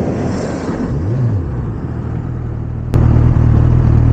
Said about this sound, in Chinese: 然后打火给大家听一下声音。